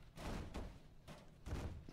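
Explosion-like bursts in a Ghostbusters video game, triggered by walking up to a chair: three loud, broad blasts roughly half a second apart, each with a booming low end, with no talk over them.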